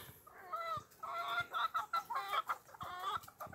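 Fowl at a rooster farm clucking at close range in several quick bursts, with short pauses between the calls.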